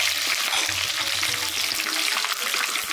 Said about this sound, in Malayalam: ഈ പച്ചമുളകിൻ്റെ ഈ പച്ച നിറം മാറി ഒന്ന് എണ്ണയിൽ മൂക്കുമ്പോൾ ഉണ്ടല്ലോ